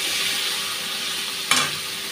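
Ginger-garlic paste fries in hot oil with tomato and green chilli, giving a close, continuous sizzle, with one brief sharp burst of crackle from stirring partway through.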